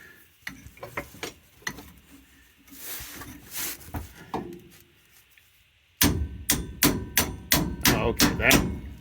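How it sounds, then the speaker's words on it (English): Hammer strikes on a punch and chisel driving out a stuck part, sharp metallic blows first scattered and fairly faint, then a dense run of about ten loud, evenly spaced hits close by. "Use my punch, the chisel on it"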